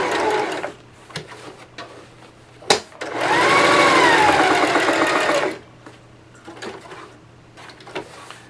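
A Singer 5554 heavy duty sewing machine runs in one steady burst of about two and a half seconds, with a whirring motor pitch that rises then falls. Quieter handling noises and light clicks come before and after it.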